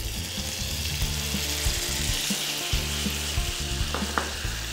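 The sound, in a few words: pineapple in syrup sizzling on low heat, caramelizing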